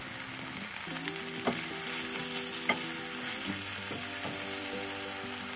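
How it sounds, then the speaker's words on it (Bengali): Eggplant sizzles steadily in hot oil in a wok, with a few sharp scrapes and clinks of a spatula stirring. "কড়াইতে তেল দিয়ে বেগুন দিলাম"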